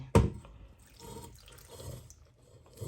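Mortar rinse water splashes briefly into a pot of bamboo shoots with one quick pour, then settles into quiet, low rustling and cooking noises.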